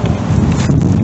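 Wind buffeting an outdoor microphone in a pecan orchard, a brief loud continuous low rumble and roar, close and alone.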